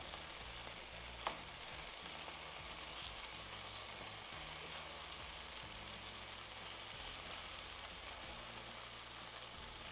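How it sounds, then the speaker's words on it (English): Constant crackling sizzle of chicken frying in a pan, with occasional soft scraping and stirring clicks, steady and close, no voices. "They're sizzling nice."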